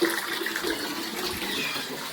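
Tap water runs steadily into a container early in the morning, a continuous even splashing rush that holds at a moderate level throughout with no voices.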